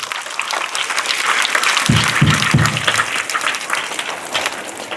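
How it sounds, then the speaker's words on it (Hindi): Students at a school break into a burst of clapping that starts close and loud and keeps going for several seconds as a dense, even patter, with no speaking over it. "कस के ताली बजा दीजिए एक बारी"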